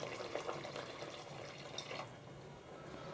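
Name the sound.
pouring coconut milk into pressure cooker for biryani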